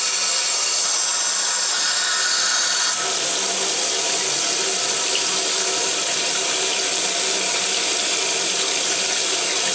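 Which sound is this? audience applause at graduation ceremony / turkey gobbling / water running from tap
water running from tap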